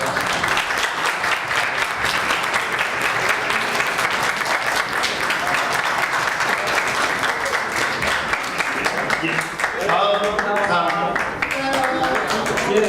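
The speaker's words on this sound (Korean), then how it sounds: "박수 부탁드릴게요." Sustained audience clapping at a startup weekend award ceremony, a thick wash of applause that holds steady throughout, with a few voices surfacing near the end.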